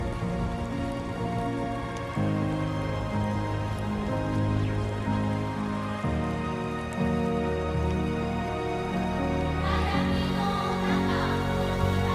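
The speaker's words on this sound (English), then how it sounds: "I knew it'd be rainy." Steady rain in the video game Death Stranding 2, a dense continuous patter under layered music-like tones that swell and shift throughout, with no voices.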